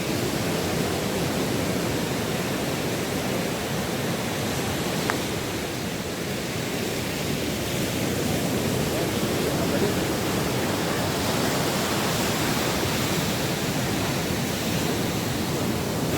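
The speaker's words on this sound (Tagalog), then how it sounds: "Nakita nyo yung sobrang lalaki ng alon dito." Large ocean waves crash on a beach at a Zambales resort with a strong current, a dense, continuous roar of surf that never lets up, heard up close and loud.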